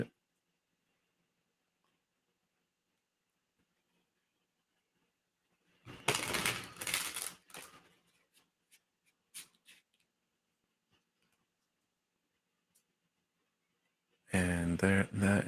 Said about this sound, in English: I'll just shuffle this a bit.